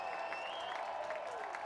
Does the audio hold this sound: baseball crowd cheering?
yes